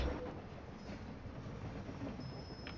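A train rolls along in the video game Call of Duty Warzone, a continuous low rumbling roar with faint rattling and a brief high whine near the end, steady and fairly close with no talk.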